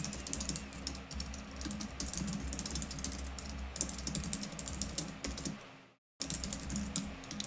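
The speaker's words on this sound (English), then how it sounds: "I don't know if you can hear my keyboard or not." Rapid, irregular clatter of keys on a computer keyboard, typed in quick bursts at close range over a low background hum, with a brief dropout near the end before the typing resumes.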